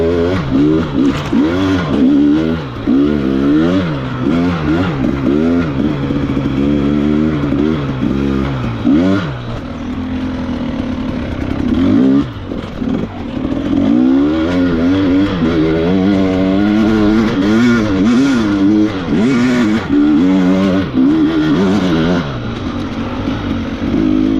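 A dirt bike with a finger throttle rides through snow, its engine loud and close, revving up and down in continuous waves with short dips as the throttle comes off.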